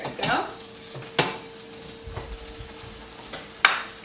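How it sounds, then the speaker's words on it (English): Peas and asparagus are stirred into a cream cheese sauce in a pan, with a few soft scraping knocks and a sharper clink near the end over a faint background hum. "And just stir to combine."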